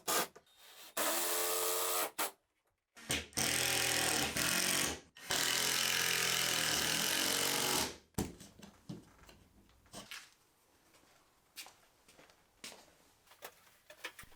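A power tool drives screws through ceiling cleats into studs, giving several loud, sustained whirring bursts separated by short pauses, followed by quieter scraping and handling noises.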